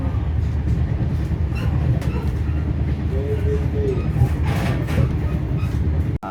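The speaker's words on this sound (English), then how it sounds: "as you can see, I take the train" A passenger train rides along the rails, giving a steady low rumble with faint rattles and clacks throughout, heard from inside the carriage.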